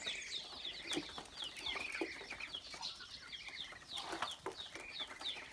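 A cluster of white Muscovy ducks peeping and chirping busily up close, with soft scratchy pecking at wheat and light taps underneath, no voices.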